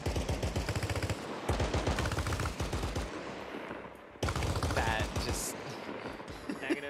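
Automatic gunfire bursts hammered into a wall in the WW2-style Arma Reforger game, rapid loud volleys in two stretches split by a brief lull, with squad voices talking over the shooting.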